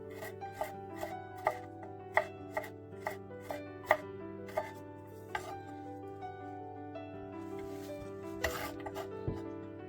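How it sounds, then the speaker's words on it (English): A knife chops garlic cloves on a board for a pumpkin soup, with a run of crisp, evenly spaced cuts that slows and then ends in a few scattered knocks, close and clear over steady background music. "Chop 3 cloves of garlic and add that to the pan as well."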